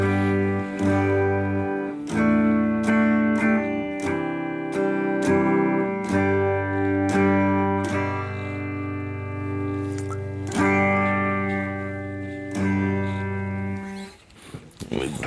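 A Donner DMT66 electric guitar plays a clean tone through a Fender Champion amp, with strummed chords ringing out and sustaining at a steady moderate level and fading at the end.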